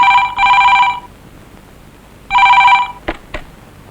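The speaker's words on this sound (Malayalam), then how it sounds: "ഫോൺ." A telephone rings indoors with two loud, close bursts of a trilling electronic bell separated by a pause, followed by two brief clicks as it is picked up.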